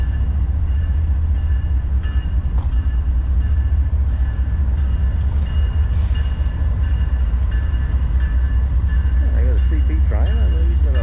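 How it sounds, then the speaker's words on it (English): A freight train rumbles steadily past in downtown Calgary with a deep low roar and clattering cars, a voice speaking briefly near the end over the noise. "Oh, train coming through."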